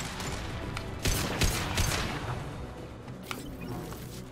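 Gunfire in the video game Mass Effect 2, a dense burst of rapid shots followed by a few scattered single reports, loud and close with no speech.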